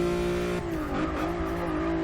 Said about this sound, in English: hit the brakes a little bit late there